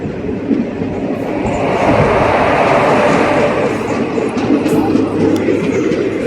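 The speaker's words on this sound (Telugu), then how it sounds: "ప్రస్తుతం మన ట్రైన్ అయితే గుడివాడ జంక్షన్ నుండి అయితే డిపార్ట్ అయిపోతుంది" A passenger train pulls out of Gudivada Junction, heard from on board as a loud, steady rumble of wheels on rail with rhythmic clickety-clack that swells slightly as it gathers pace.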